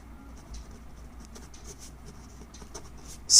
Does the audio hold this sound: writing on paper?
yes